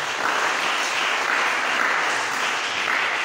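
A church congregation applauds at a Sunday service, a dense, loud, continuous wash of clapping from many hands filling the room.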